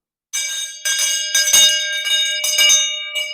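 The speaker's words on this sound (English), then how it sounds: "they'd use a bell instead of a hand drum." Handbell shaken in steady ringing bursts, as used in place of a hand drum at Longhouse medicine dances, loud, close and alone with brief gaps between shakes.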